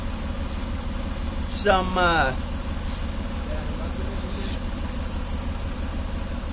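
Steady low idle of a 2004 Acura MDX engine that has a coolant leak, a constant rumble running throughout, with a brief spoken phrase over it.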